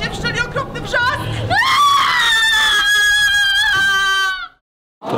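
A group of actors shriek in terror during a theatre staging of "Reportaż o końcu świata" by Teatr Wierszalin: loud, sustained, overlapping screams rise after brief agitated voices, hold for a few seconds, then cut off abruptly into silence.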